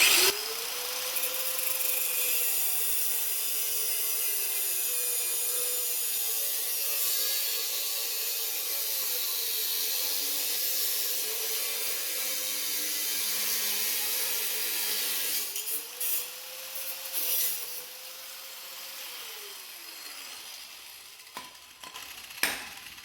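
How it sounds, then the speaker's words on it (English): A cutoff wheel slices through steel angle on a Split-Fire 1165v log splitter, a sustained high grinding whine that dips and recovers under load, stops, restarts briefly, then winds down with a few clanks near the end. "first, use a cutoff wheel to cut off that angle"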